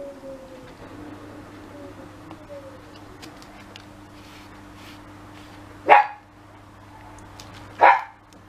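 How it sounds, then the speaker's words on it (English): A dog barks twice in the distance, two separate sharp barks a couple of seconds apart over a quiet indoor background with a low steady hum. "There's a dog barking in the background somewhere about 40 miles away that Timmy can hear, which is why he started"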